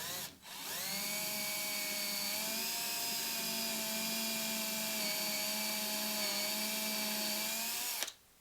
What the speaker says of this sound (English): I'm going to use a center finder here to drill my holes.